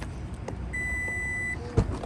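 A 2022 Toyota Highlander XLE Hybrid power lift gate opening, with a single sustained high electronic beep followed by a short mechanical thud, heard up close.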